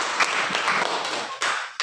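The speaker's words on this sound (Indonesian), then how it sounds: "tepuk tangan untuk SAS." Students in a classroom clap briefly, a short burst of scattered hand claps with a few sharper individual strikes, close and fairly loud, ending abruptly after under two seconds.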